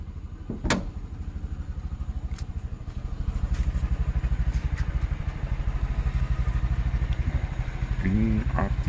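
A motorcycle engine idles steadily and close by while its battery is jumpered to a stalled Isuzu Panther's battery, a low continuous putter with brief clanks and a short rise in loudness partway through.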